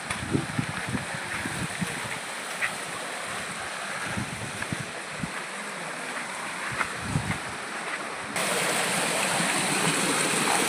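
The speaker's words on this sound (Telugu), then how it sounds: "ఆ పైన జలపాతం నుంచి నీళ్ళు" A waterfall stream pours down rocky hills in the Palakonda range near Kadapa, making a steady broadband rushing roar that grows slightly louder toward the end, with no voices.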